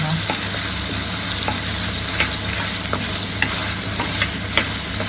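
Mutton liver masala fry is stirred in a hot pan, a dense steady sizzle under a low hum, punctuated by scattered spatula clicks and scrapes.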